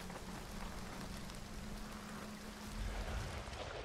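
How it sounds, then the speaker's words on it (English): Steady rainfall in the video game Hunt: Showdown, a continuous dense patter that holds at an even level throughout with nothing else over it. "Why is this rain never ending?"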